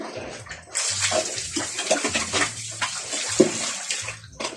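Water splashes and pours in uneven gushes, close by, poured out for pigs, including a sow, on a backyard farm, with low grunting sounds underneath.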